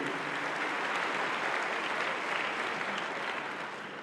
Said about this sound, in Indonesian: Kita berikan aplaus kepada Pak Rektor dan seluruh sivitas akademik